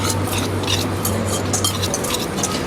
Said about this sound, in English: We take the whisk. Can you give it a good mix?